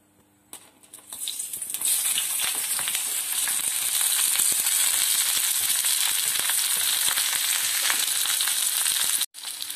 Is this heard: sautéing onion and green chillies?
yes